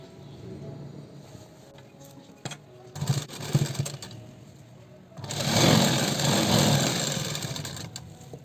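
A sewing machine runs straight stitching on a blouse, short whirring bursts early on, then a longer steady run in the second half, close and moderately loud.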